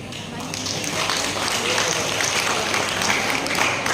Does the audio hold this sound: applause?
yes